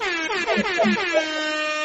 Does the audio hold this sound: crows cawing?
no